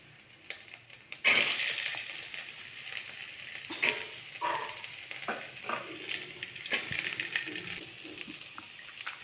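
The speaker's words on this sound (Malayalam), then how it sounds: "കരിവേപ്പിലയും വറ്റൽമുളകും കുറച്ച് സവാള ഇട്ട് കൊടുക്കാം" Curry leaves, dried red chillies and sliced onion go into a pan for a Kerala koorka mezhukkupuratti, with a sudden crackling burst followed by an ongoing, uneven sizzle and occasional stirring scrapes nearby.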